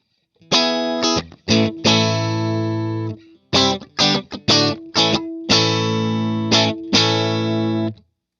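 An electric guitar plays through a TopHat Rialto Reverb amp pushed into mild breakup, loud close chords and single notes in uneven bursts with short gaps, a warm slightly gritty tone ringing out alone.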